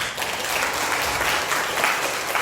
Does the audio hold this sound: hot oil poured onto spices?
no